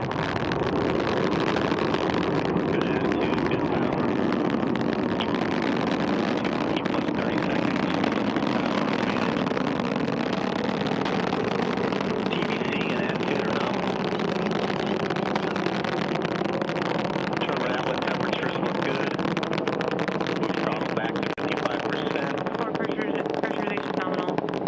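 Rocket engines of a Cygnus resupply launch to the International Space Station roar at liftoff: a dense, steady, powerful rumble that holds unbroken for the whole stretch.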